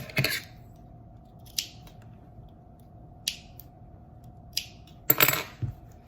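Short, sharp scissor snips trimming leftover thread from a sewn structured fabric face mask, a few isolated close cuts spaced apart in a quiet room.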